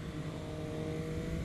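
A car engine hums loudly and steadily, pulling on after braking and a gear change, with no voices.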